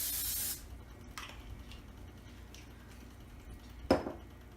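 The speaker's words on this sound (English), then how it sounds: "before placing them on the grill, we should actually spray with some cooking spray" Cooking spray hisses in one short loud burst over steaks before they go on an electric grill, followed by quiet kitchen clatter and a sharp clink near the end.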